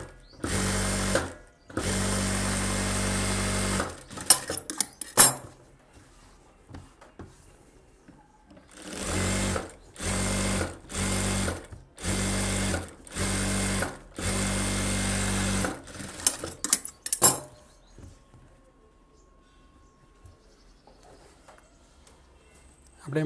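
A tailor's sewing machine stitches the back piece of a blouse in several loud motor bursts of a few seconds each, separated by short pauses, then goes quiet with faint handling.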